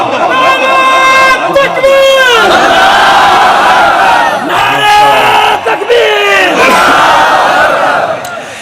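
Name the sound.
crowd shouting the Takbir slogan response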